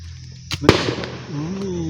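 A single firecracker goes off outdoors beside a natural canal where bamboo shoots are being gathered. It makes one sharp, close bang over steady background noise, followed by a low droning sound.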